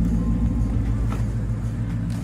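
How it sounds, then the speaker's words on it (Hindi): A classic Ford Mustang engine idles at lower RPM, a steady low rumble that holds close and even throughout with no speech over it. "अभी थोड़ा आवाज़ कम हो गया ना कार का, तो अभी हम उसे निकाल सकते हैं। Like the RPM has also gone down,"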